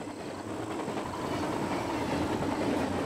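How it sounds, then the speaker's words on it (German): A train in the video game American Fugitive rolls along with a steady rumbling rattle and a faint clickety-clack of wheels. The sound holds close and continuous, swelling slightly toward the end, with no talk over it. "Das ist ganz geil mit den Zügen gemacht."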